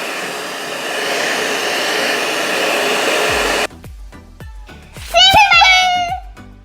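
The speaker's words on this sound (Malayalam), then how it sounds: "നിങ്ങളുടെ വീട്ടിൽ ഹെയർ ഡ്രയർ ഉണ്ടെങ്കിൽ ചെറുതായിട്ടൊന്ന് ഹീറ്റ് ചെയ്തെടുത്താൽ മതി." A household hair dryer blows with a steady, loud whoosh for about three and a half seconds, then cuts off, followed by clattering and a voice.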